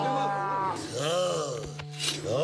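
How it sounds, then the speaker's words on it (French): A herd of cows moos in a French animated Zorro series, with long drawn-out harmonic lowing calls rising and falling, loud and close, mixed with cartoon sound effects. "On a juste encerclé un troupeau de vaches, commandant."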